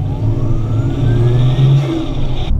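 Modified Toyota Aristo with a 2JZ twin-turbo VVTi engine revving up close, a loud rising engine note that climbs and falls back before cutting off abruptly.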